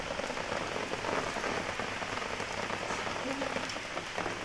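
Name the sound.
rain falling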